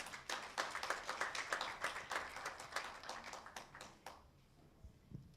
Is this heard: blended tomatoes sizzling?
no